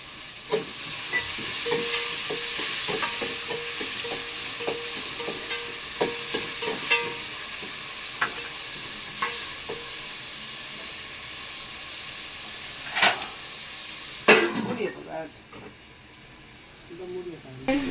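Tomatoes fry with salt and turmeric for a soya kurma, giving a steady close sizzle with scattered sharp clinks and scrapes of stirring, plus a couple of louder knocks near the end.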